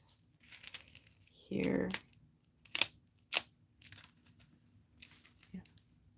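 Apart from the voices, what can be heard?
cutting material with scissors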